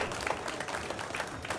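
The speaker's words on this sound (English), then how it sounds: "And an appreciative crowd with the applause there." Steady crowd applause at a professional one-pocket pool match, a continuous wash of many hands clapping at moderate loudness, briefly and without pause.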